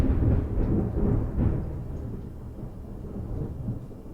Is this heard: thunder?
yes